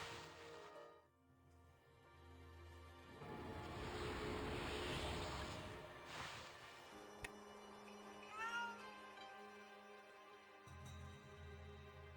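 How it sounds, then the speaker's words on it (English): A cat meows several times in the video game Okami HD on the North Ryoshima Coast, the calls rising and falling against soft ambient wash and background music. "It stopped meowing."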